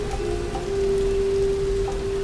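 Steady rain falls in the Tomb Raider 2013 video game, a constant close wash of drops with a faint sustained tone running through it and no voices.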